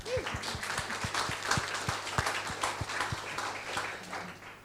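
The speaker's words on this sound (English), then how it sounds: "I think that deserves a round of applause." A crowd applauds at an International Day for Women in Maritime event, steady clapping filling the room for several seconds, with a few sharper individual claps standing out.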